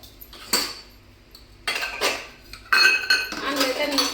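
Freshly washed pots and steel dishes are set down in bursts of clattering and clinking, three separate handling episodes with quiet gaps between, close and fairly loud.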